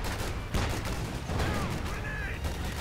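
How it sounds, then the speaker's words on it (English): MG42 machine gun fire in Company of Heroes 2 amid a busy battle, rapid bursts and scattered gunfire layered over distant explosions, with a commentator's voice underneath. "the MG42 joining in"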